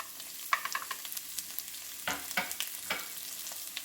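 Curry leaves, ginger and garlic sautéing in a pan, giving a soft, steady close-up sizzle broken by several sharp stirring scrapes and crackles.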